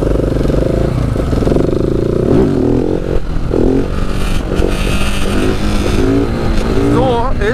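A motorcycle pulls a gentle wheelie in the middle lane at a traffic light. Its engine drones close and loud with rising and falling revs under steady wind rush.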